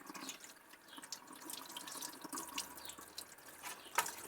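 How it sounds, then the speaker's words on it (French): A board is washed under a running kitchen tap, with water splashing and gushing steadily up close, small drips and knocks at intervals, no talk. "Je vais laver ma planche."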